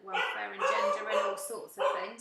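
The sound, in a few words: dog barking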